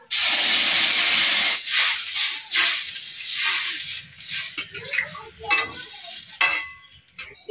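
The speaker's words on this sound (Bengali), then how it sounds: "ভাজা হয়ে গেছে, এবার জল দিয়ে দিই।" Water hits fried masoor dal in a hot pan with a loud hissing burst that quickly settles into uneven, crackling sizzles and fading steam bursts.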